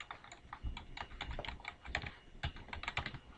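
Typing on a computer keyboard to enter a website domain name, a rapid irregular run of close, crisp key taps with a few heavier thumps, no voices.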